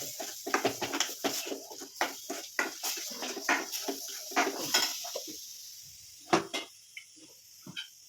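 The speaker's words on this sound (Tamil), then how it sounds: "அதையும் அதுக்குள்ள போட்டு கிண்டிக்கணும்." Tomatoes and chillies are stirred into a pan with a metal spoon, giving quiet, irregular scraping clinks and taps against the cookware, fairly close and alone, with a soft sizzle underneath.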